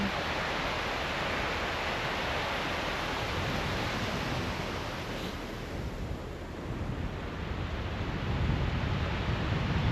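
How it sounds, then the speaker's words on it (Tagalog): Ocean surf washes onto a beach in Wellington, New Zealand, as a steady broadband roar with wind buffeting the microphone, continuous and loud throughout with a slight swell near the end. "Tunog ng alon."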